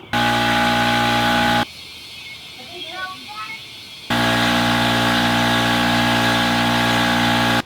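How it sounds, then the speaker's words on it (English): A motorcycle tire is filled with air, a loud, steady mechanical hum from the air pump. It cuts out for a couple of seconds, leaving quieter background sounds, then resumes just as loud. "We are ready to fill this up with air."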